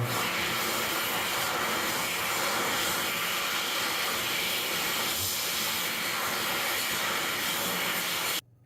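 Xlerator hand dryer fitted with a 0.8 nozzle, running in a Starbucks restroom: a loud, steady airy roar with a hissing high edge that holds unbroken for about eight seconds, then cuts off abruptly.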